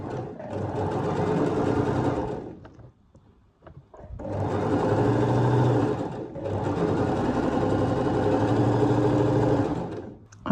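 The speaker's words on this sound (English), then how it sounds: "we're going to sew this" Sewing machine zigzag stitching a jersey fabric seam for knickers, running in two long steady whirring bursts with a short pause between them, close and loud.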